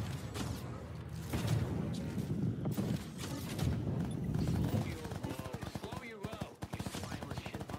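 Rapid gunfire in an Off The Grid video game match, with dense bursts and loud cracks running almost continuously under excited talk from a player.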